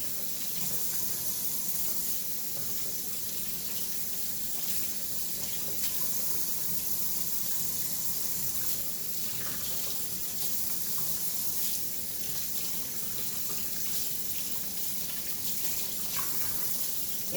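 A kitchen tap runs steadily for a quick rinse at the sink, a soft continuous stream of water with faint splashing, distant and quiet, and no one speaking.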